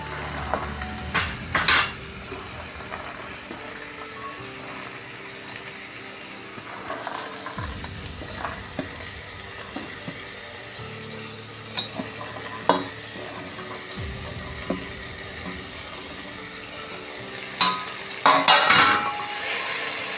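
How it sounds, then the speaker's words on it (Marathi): Vegetables for masala bhaat are stirred and sautéed in a pan: a continuous sizzle runs under repeated scrapes and occasional metallic clinks of the spoon, with a denser clatter of stirring near the end, and no voices. "भाज्या आता थोडा वेळ परतून घ्यायचा"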